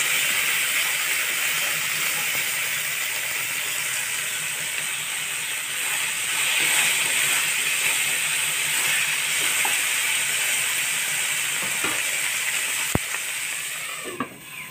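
Silkworms fry in hot oil in a pan, a steady dense sizzle and hiss that runs without a break, with a sharp click near the end and no talk.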